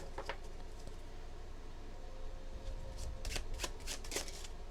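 A deck of tarot cards is shuffled by hand, with a few soft riffles at first and then a denser burst of crisp card flutters, quiet and close against a low room hum.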